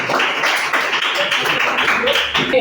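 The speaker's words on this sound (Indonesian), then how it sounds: "Tepuk tangan kita semuanya" Applause from a classroom of students, a steady, dense patter of many hands clapping together at moderate loudness throughout.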